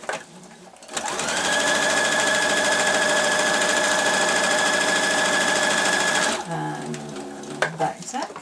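A sewing machine runs steadily and loudly for several seconds, stitching the edge of a fabric knitting needle case, then stops briefly and restarts with a short burst for a back tack.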